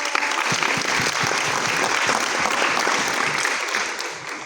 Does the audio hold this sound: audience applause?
yes